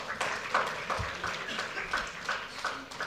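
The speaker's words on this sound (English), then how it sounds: "Kindly keep the applause going." Applause rising from an audience at a Delhi government health and wellness awareness session, dense and steady throughout with faint background voices.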